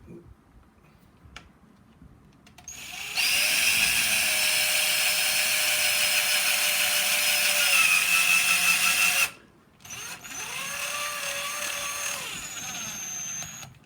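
A power drill drives self-drilling screws into UPVC window hinges, giving two sustained high-pitched whirring bursts, the first about six seconds long and the second shorter after a brief pause, with no talk.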